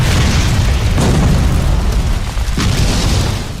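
A loud video game explosion booms with a deep rumbling burst, followed by a second blast and a fading roar.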